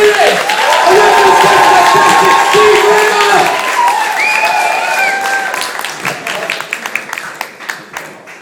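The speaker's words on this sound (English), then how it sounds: "Start stamping those feet! Start clapping your hands!" A pub audience claps, stamps their feet and cheers, with whoops and shouts over dense, loud applause that gradually thins into scattered claps at the end.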